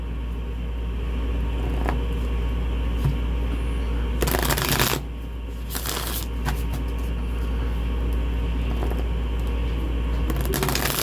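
Tarot cards being shuffled in quick riffling bursts, loud and close, over a constant low hum and rumble of background noise.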